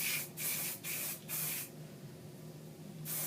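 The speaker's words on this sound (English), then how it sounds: "I'm going to take some hairspray. This is Joico Joy Mist Medium. Give myself a little squirt" Joico Joy Mist Medium hairspray is sprayed onto hair in four short hissing bursts, then a quiet pause, then one more burst that begins at the end. The spray is close and has no talk over it.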